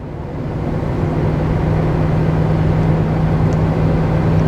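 A truck engine with Banks turbo inlet and boost tube upgrades roars at wide open throttle, a loud steady drone with a strong low hum that builds slightly at the start and holds without talk.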